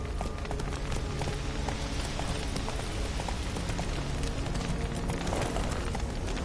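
In The Witcher 3, the horse Roach gallops in a rapid, continuous clip-clop of hooves that stays close and loud throughout, with no talk over it.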